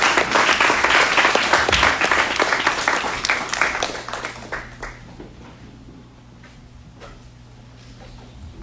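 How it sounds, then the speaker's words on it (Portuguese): A church congregation applauds in a dense burst of clapping that gradually thins and fades, leaving a low hum and a few scattered claps. "Pode aplaudir ao Eterno mais uma vez."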